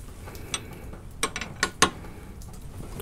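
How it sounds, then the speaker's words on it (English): A ratchet wrench works bolts on a Honda transmission mount, giving a few sharp, close metallic clicks and clacks spread over about three seconds against a quiet background. "Move the wrench over to the next set."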